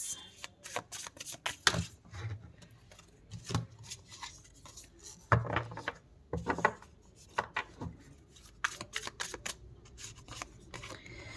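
Tarot cards being shuffled and laid down in a tarot reading, with repeated crisp riffling bursts and soft slaps at an irregular pace, close and fairly quiet with no talking.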